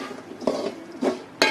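Thick mixture of roasted semolina, jaggery and grated coconut stirred in a pan for coconut mittai, giving a few soft scraping strokes with light clinks, close and quiet, no voices.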